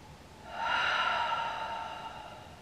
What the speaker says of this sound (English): One more time, inhale, and slowly exhale.